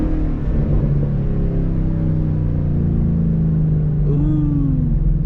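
A Ford Mustang GT with a 10-speed transmission revs hard at night, heard from inside the car, its engine drone rising steadily in pitch through a pull.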